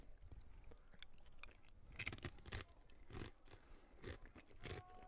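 Someone crunches chips close by during a college club football game between Ohio State and Wittenberg JV, with soft irregular bites and chewing crackles at low level and no talk over them.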